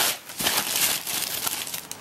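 A plastic bag holding rubber slippers crinkles and rustles in quick, close bursts while a travel backpack is being packed, alone and fairly quiet.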